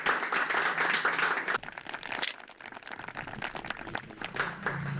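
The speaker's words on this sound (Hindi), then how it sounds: "जोरदार तालियां बजा दीजिए जरा।" A studio audience on a farmers' television quiz show applauds a farmer winning the Kisan Cup, a burst of close clapping that thins after a second and a half into scattered, uneven claps.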